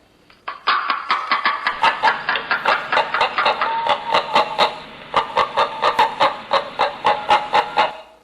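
Steady series of sharp, close clucking pulses imitating a hen, continuing for several seconds with a short break midway, produced by a cup rather than a real bird.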